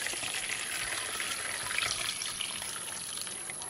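Hibiscus water is strained into a large glass jar already holding chopped fruit, giving a steady, close splashing pour of liquid that runs without a break.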